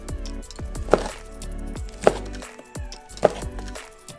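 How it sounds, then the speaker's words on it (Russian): Knife chopping ham into smaller pieces on a cutting board: three crisp, distinct chops about a second apart, close and fairly loud, with faint kitchen clatter between them. "А их уже на кусочки поменьше."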